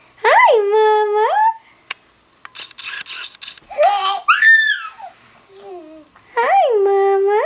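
A four-month-old baby babbles and coos in long, rising and falling vocal bursts, loud and close, with short pauses and a few softer squeals between them.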